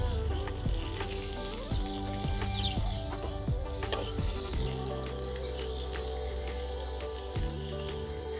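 Silkworm pupae fry in a pan with bamboo shoot, a steady close sizzle broken by scraping stirs and clicks of utensils, with a low hum underneath throughout.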